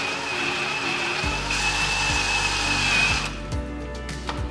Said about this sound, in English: I just actually start drilling it out